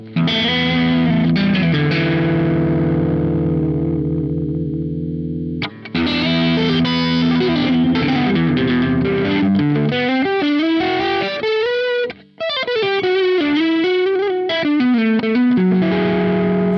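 An electric guitar played through an amp set to crunch distortion rings out loud and alone, with sustained chords and riffs carrying a gritty, effected tone.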